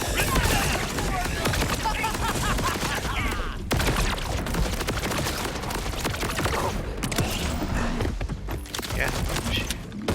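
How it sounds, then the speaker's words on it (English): Gunfire from a shootout in the video game Borderlands 4 forms a dense, continuous barrage of rapid shots and impacts, loud and unbroken throughout, with a player briefly speaking over it. "What am I shooting at?"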